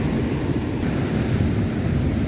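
Heavy, rough sea waves wash and roar loudly around a small fishing boat, a continuous dense rush mixed with wind buffeting.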